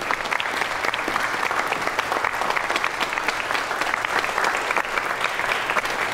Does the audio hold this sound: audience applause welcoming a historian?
yes